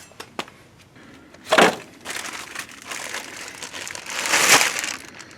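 Crinkling and rustling plastic bag holding a new brake rotor for a 2017 Mazda 3, handled close up, with a couple of louder crackling bursts and lighter rustles in between.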